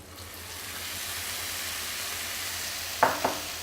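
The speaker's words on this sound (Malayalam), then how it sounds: "ഈ വെളിച്ചെണ്ണയിൽ ഇങ്ങനെ വഴറ്റി നമുക്കൊന്ന് മൊരിച്ചെടുക്കാം" Bitter gourd pieces sizzle softly in hot coconut oil in a pan for a pickle, a quiet, steady frying hiss, with two brief spoon clicks as the pieces are stirred near the end.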